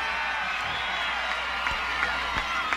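A large outdoor crowd at a state GOP picnic in Hooper, Utah, in 1982 for Ronald Reagan's speech, with a steady, dense roar of cheering and clapping and a few sharper claps standing out.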